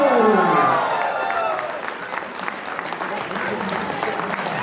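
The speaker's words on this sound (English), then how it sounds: "Take a round of applause" Loud applause from a crowd at an Ugadi celebration with some cheering, strongest at the start and then settling into steady, sustained clapping.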